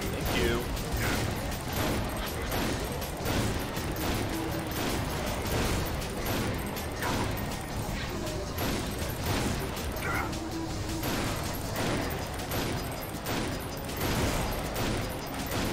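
Continuous dense gunfire and explosions in the shooter game Painkiller: Redemption, fired from a bone gun. The blasts run without a break at high volume, with occasional mechanical clanks and a voice speaking underneath.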